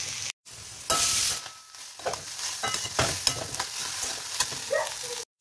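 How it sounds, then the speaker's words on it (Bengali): Mourala fish frying in a little oil in a pan, a steady close sizzle with occasional stirring scrapes and brief pauses, no talking. "চলো আবার মৌরলা মাছটা দেখি, অল্প তেলে করি তো"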